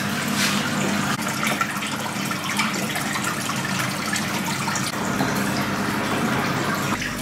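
Water gushes steadily into a 1000-litre aquarium, a continuous close, loud pouring wash with no voices.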